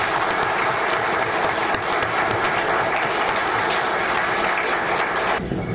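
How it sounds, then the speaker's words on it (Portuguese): Members of a city council chamber applaud in a sustained, even round of clapping, filling the room at moderate level and cutting off abruptly near the end. "Peço uma salva de palmas"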